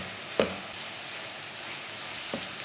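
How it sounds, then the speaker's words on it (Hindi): Minced keema with red chilli powder and turmeric fries in a pan with a steady close sizzle, and two sharp knocks of a spoon stirring against the pan. "अच्छी तरह मिक्स करके 1 मिनट तक भून लेंगे।"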